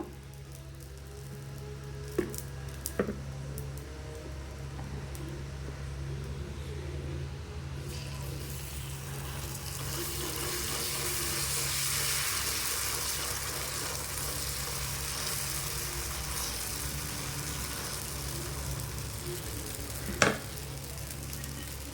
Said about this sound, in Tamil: இன்னொரு தோசை ஊற்றி காமிக்கிறேன் உங்களுக்கு